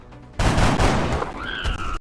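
Gunfire in the strategy video game XCOM Long War: a sudden loud shot bursts in and rolls on as a dense, sustained crackle and boom for over a second, with game tones trailing afterward.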